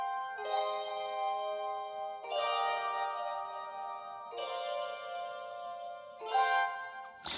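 Reverb-drenched, chorused guitar chords pitched up an octave ring out in four shimmering swells, each sustaining bell-like before the next, with no talking, in a jazzy pop beat.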